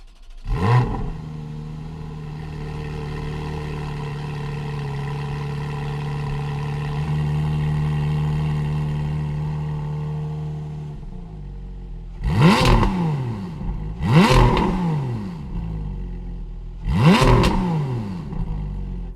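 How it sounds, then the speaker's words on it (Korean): A Porsche Cayman GT4 with PDK gearbox, a 420-horsepower engine, cranks and fires up, settles into a steady droning idle, then barks through three sharp, loud revs close by. "그럼 카이맨 GT4 차량 주행 한번 시동 걸고 가보도록 하겠습니다"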